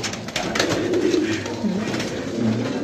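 Faqeer Gul pigeons coo in soft, low, repeated murmurs that run steadily under a faint background hiss, with no clear talk over them.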